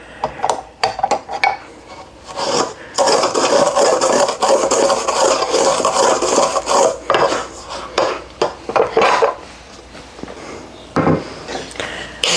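Homemade brown sugar stirred in a bowl, a spoon scraping and rubbing against the bowl's sides in irregular bursts, close and fairly loud with brief clinks between strokes.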